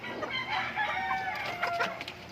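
Stag roosters crow repeatedly at moderate distance, overlapping calls with clucking fowl around them in an outdoor farm setting.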